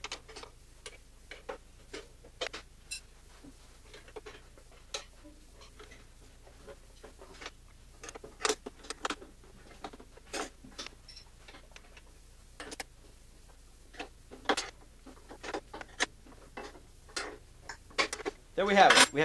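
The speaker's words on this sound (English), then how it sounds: "Then grab the wrenches and tighten away." Wrenches tighten bolts on a speaker mount fixed to a DJ lighting truss, giving a long string of irregular close metallic ticks and ratchet clicks with a brief clatter at the end.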